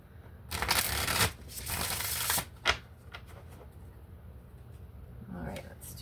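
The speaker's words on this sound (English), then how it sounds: "So let's start shuffling." Tarot cards shuffled by hand, a riffling rustle in two loud bursts early on, then softer card handling and a few sharp taps, with quiet background sound throughout.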